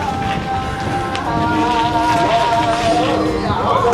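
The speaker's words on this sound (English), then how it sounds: "This is out of control wind." Strong spring wind gusts hard into the microphone on an outdoor walk around a university campus, a steady loud rumbling buffet with faint background sounds underneath.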